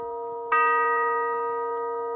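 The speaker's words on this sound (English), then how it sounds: "So we'll now begin with the temple chimes" Temple chimes struck once to open a church service at Unity Temple, a single clear bell-like tone that rings out and slowly decays in a quiet room.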